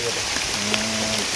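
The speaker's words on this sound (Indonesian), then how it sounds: "soalnya udah mulai rintik-rintik" Light rain drizzles steadily in a forest on a mountain hike, a soft continuous patter with scattered drops and faint background hum, fairly close and even throughout.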